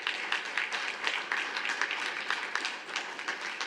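Audience applause at an energy ministry signing ceremony with ExxonMobil: steady, moderately distant clapping from a roomful of people, continuous and even throughout with no voices.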